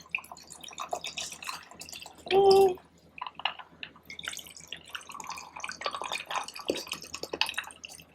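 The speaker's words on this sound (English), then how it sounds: "So now we pour in the ginger beer, like so." Ginger beer poured into a mixed drink, giving a steady splashing and trickling of liquid with a brief louder gush partway through, while a person talks over it.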